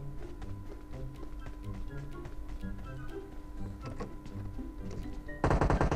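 Rapid gunfire in PUBG Mobile rattles off in quick bursts of repeated shots, steady and moderately loud, ending in a denser, louder burst.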